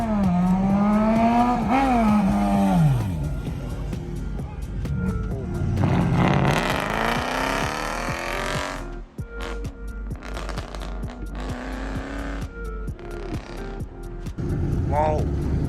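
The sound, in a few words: car revving and accelerating at a car meet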